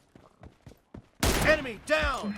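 Gunfire in the battle game PUBG Mobile during a one-on-one match: a few faint thumps, then a loud burst of shots with ringing tails, near and harsh, with people talking underneath.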